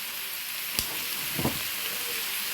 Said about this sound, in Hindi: वेजिटेबल को अलहदा से स्टर फ्राई कर रही हूँ